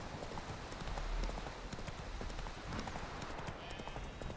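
Horse hooves clip-clop steadily in The Witcher 3 game, a continuous, moderately loud trotting rhythm with no talk over it.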